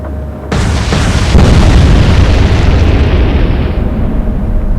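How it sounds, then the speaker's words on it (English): Warship magazine detonation in the naval game Atlantic Fleet: a sudden loud boom breaking in after a brief pause, then a long, roaring rumble that sustains and slowly fades. "Magazine detonation, fireworks from the Vanessa"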